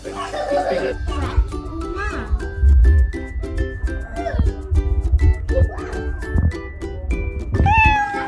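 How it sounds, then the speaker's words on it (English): A cat meows several times amid a busy mix of music-like tones and talking, with a brighter, rising meow near the end. "This is a cat pussy."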